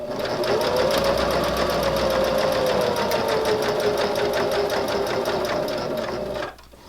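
A sewing machine stitches fabric for a silverware pocket in a fast, steady mechanical whir with rapid needle clatter, close and continuous before stopping abruptly near the end.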